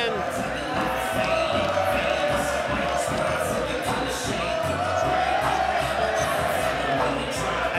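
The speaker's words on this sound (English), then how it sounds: "The Irish crowd getting behind Goodman." An Irish crowd at a Muay Thai fight keeps up a steady roar of cheering and shouting behind the fighter, with a commentator talking over the noise.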